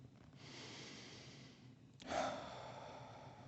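A trombonist draws a quick, audible breath through the mouth, a soft airy intake swelling around the middle of an otherwise hushed, faintly hissy room.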